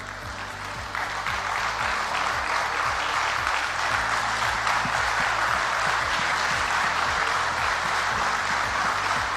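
An audience at an event honoring spouses claps steadily and warmly for several seconds, a dense wash of many hands, with faint music running underneath.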